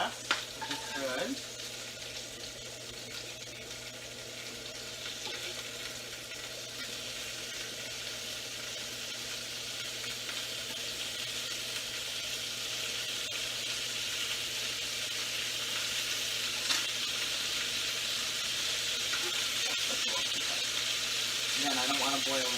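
Chicken pieces frying in oil in a pan on medium heat, a steady dense sizzle that holds evenly throughout and grows slightly louder toward the end, with occasional clinks of stirring.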